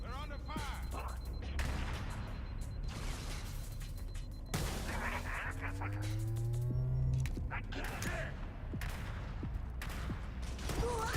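Bursts of gunfire in the video game Operation: Meteorite crackle in rapid, repeated volleys, mixed with low droning game sounds and voices talking over the action.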